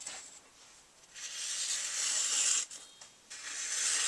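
Light sharpening strokes along a knife blade edge, a few long hissing scrapes with short pauses between them, close and fairly loud, with no voices.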